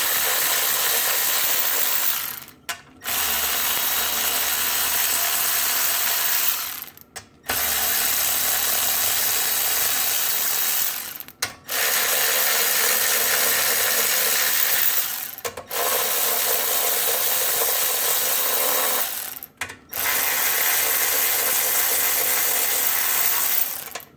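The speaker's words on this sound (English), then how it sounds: "So why don't I go ahead and I'll pull these bolts out." Bolts being backed out of a Predator 212 small engine with a ratchet, five long bursts of rapid clicking, each a few seconds long and split by short pauses, close and loud.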